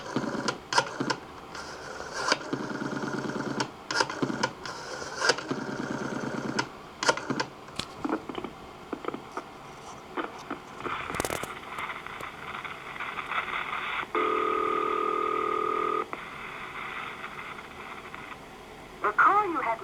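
A local call is dialed on a coin telephone line without coins deposited, bringing short clicks and tones followed by a steady tone and a recorded voice announcement.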